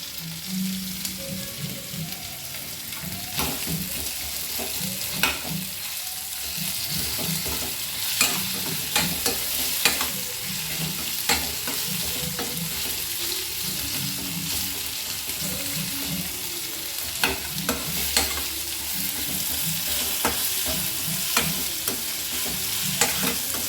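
Tomato frying and sizzling in a hot pan while being stirred, with a steady hiss broken by repeated scraping and stirring strokes, heard up close with no talk.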